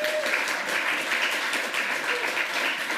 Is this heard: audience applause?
yes